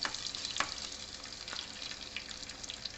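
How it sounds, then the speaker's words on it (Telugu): Crushed garlic frying in a pan, with a steady broadband sizzle and crackle throughout and a few sharper pops, heard up close and alone without talk. "దంచుకున్న వెల్లుల్లి కొంచెం పచ్చివాసన పోయినాక వేయించుకుందాం"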